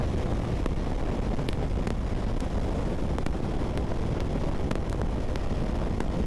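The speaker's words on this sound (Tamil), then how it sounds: "காத்து பயங்கரமா அடிக்குது." Strong wind roars steadily into the microphone while riding a KTM Duke 390 motorcycle on a highway, a dense continuous buffeting rush with no voices.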